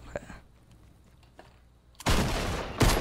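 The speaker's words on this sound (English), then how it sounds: "Direct headshot with a double shotgun does" Double-barrel shotgun blasts from the video game Fortnite, with two loud, close bursts near the end after quieter background game noise.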